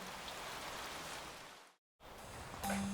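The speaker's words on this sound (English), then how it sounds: "And it's raining." Steady rain falls outdoors as a dense, even hiss that cuts out for a moment and returns, loud and close, with no voices.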